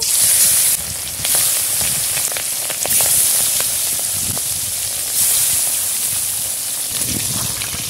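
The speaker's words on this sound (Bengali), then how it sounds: "তেল গরম হয়ে গেছে, এবার মাছগুলো ভেজে নেব।" Fish frying in hot mustard oil, a loud continuous sizzle with crackles and occasional stirring clatter, close by.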